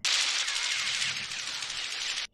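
Machine gun fire from the 1986 film Top Gun crackles in a continuous, rapid burst lasting about two seconds, fairly faint and distant, then stops sharply.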